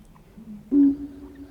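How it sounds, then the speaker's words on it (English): A bittern gives a single short, low, muffled boom that stands out briefly against a quiet background. "So this is the sound of a bittern."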